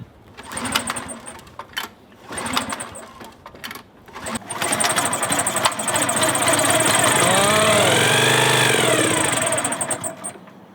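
A small engine on a mower deck under repair, fed with brake cleaner, coughs and turns over in a few short bursts, then catches and runs loud and steady, revving up and settling, close by with no talking.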